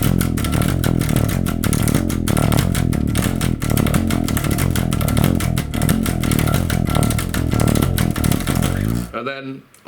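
Rapid tremolo picking on distorted electric guitar drives a dense, relentless rhythm behind a solo, loud and continuous for several seconds before cutting off abruptly into near silence.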